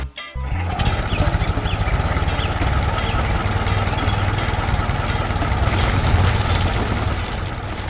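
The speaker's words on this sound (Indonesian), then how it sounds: "Traktor ungu bekerja keras di ladang" A heavy tractor engine starts up and runs steadily, a low rumbling chug that stays loud and close throughout, as the tractor works the soil in a field.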